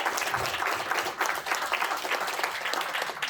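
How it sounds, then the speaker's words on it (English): Steady, dense applause from an audience for three women on stage at a real estate agents' event, filling the whole stretch at a full, even level. "Big round of applause"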